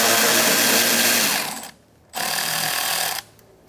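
An 8mm socket tool removes a bolt during AC condenser replacement on a 2014-2019 Kia Soul 1.6L L4, giving two loud, close bursts of rapid mechanical buzzing separated by a brief near-silent gap.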